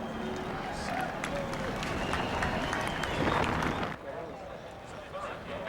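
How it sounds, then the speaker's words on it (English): A crowd applauds at Michigan International Speedway as race driver Nigel Mansell rolls to a stop, steady clapping close and loud, while a commentator talks over it. "Nigel Mansell acknowledges the applause of the audience and rolls to a stop"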